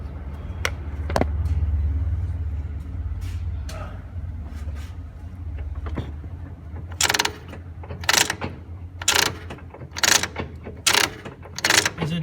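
A Honda Civic Hybrid gear shifter worked through its gates after a shift cable fix, making a series of sharp mechanical clicks and clunks in quick bursts near the end, with low engine hum beneath and brief talk earlier.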